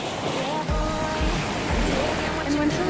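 Waves wash onto a beach at Lake Tahoe in a few low, rolling surges, with steady wind buffeting the microphone throughout.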